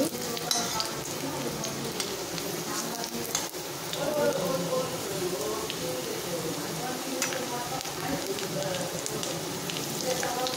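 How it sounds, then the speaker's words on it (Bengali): Potatoes frying lightly in a pan give off a continuous soft sizzle with faint scraping and stirring, moderately loud and steady throughout. "আলুটা ফ্রাই করে নিচ্ছি আমি। দেখুন ফ্রাই হয়ে গেছে আলুটা।"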